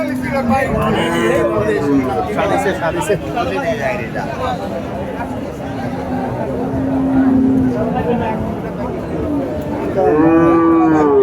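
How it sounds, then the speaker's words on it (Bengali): At a busy cattle market, cows moo repeatedly and loudly close by while people chatter in the background. "দর্শক এখানে দেখতে পাচ্ছেন প্রচুর পরিমাণে এখানে গরু আমদানি হয়ে গেছে"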